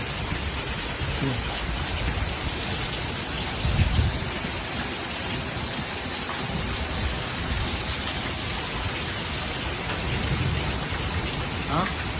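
Heavy nighttime rain falls steadily as a dense, constant roar, with a few faint low rumbles that may be distant thunder mixed into the downpour.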